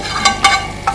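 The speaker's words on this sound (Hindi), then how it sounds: "ये हमने तड़का इसमें शामिल कर दिया" Hot tadka tempering poured into masoor and moong daal curry, a loud close sizzle with a few sharp bursts as it hits the lentils.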